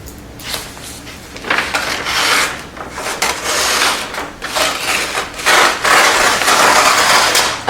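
Scissors cut through wrapping paper for a present, making repeated crisp rustling swishes and crinkles in uneven strokes, close and fairly loud.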